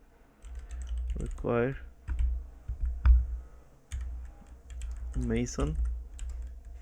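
Rapid clicking on a computer keyboard while Lua code is typed in the Neovim editor, bursts of close keystrokes under a voice speaking between them.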